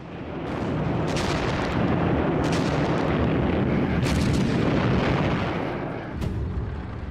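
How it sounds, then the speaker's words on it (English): A savage World War II artillery bombardment of German positions rumbles as a continuous roar of booms and blasts, with sharper cracking impacts standing out every second or two. "The attack on the German positions started with a savage 65-minute bombardment."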